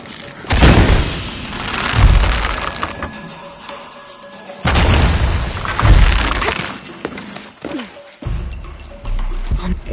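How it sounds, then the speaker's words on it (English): Explosions in Shadow of the Tomb Raider raise a platform: two heavy booming blasts, each followed by crumbling and shattering debris that trails off, with rumbling aftermath between them. "An explosion would raise the platform."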